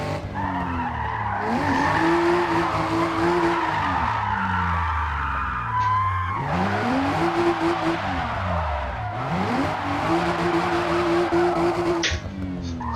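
Toyota GR Supra A90 drifting sideways in Forza Motorsport, its engine revving up and down while tires squeal loudly through repeated slides, three surging passes with screeching rubber over a steady roar.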